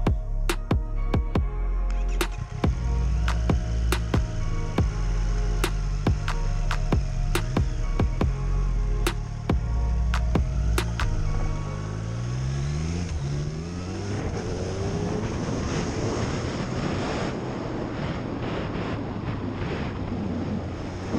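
Triumph Street Triple RS with a 765cc liquid-cooled triple engine and Arrow exhaust, starting with sharp clicks and bursts, then a steady loud idle and rising revs close by, with wind rush over the microphone.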